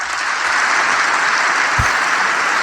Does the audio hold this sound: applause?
yes